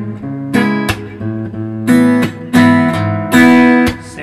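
An acoustic guitar plays the last measure of the chorus: several loud, close strummed chords with percussive slaps between them, ringing briefly with no voices.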